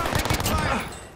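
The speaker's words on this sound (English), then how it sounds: "Keep shooting at him." Rapid gunfire bursts crackle in a shooting video game, a quick run of sharp shots that fades out within about a second.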